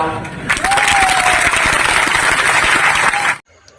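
Sustained applause and clapping from a crowd at a political rally closing a march, loud and dense for about three seconds before cutting off abruptly, with a faint voice or whistle tone running over it.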